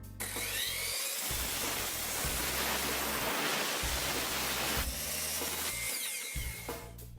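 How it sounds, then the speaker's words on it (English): A chop saw slices an angled cut off the edge of a wooden board while making a 20-degree knife-sharpening guide, a loud continuous broadband whine running almost the whole clip, briefly dropping near the start and end. "Now just cut an angled slice off the edge of the board like this."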